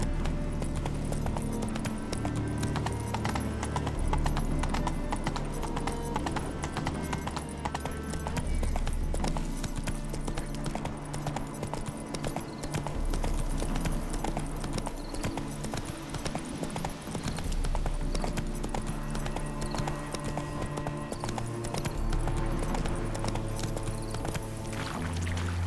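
Roach, the horse in The Witcher 3 video game, gallops in a continuous, loud rhythmic clip-clop of hooves over a steady bed of game music and ambience.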